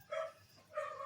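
A dog barks twice, a pair of rough, medium-pitched barks spaced about half a second apart, sounding somewhat distant and faint.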